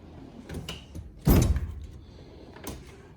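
Hand tool drawer full of screwdrivers, Torx screwdrivers and nut drivers sliding open, a few light clicks followed by one louder rolling scrape and thud, then a softer knock.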